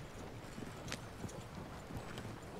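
Horse hooves clip-clop steadily at a walking pace in a video game, faint and somewhat distant, over a soft background wash.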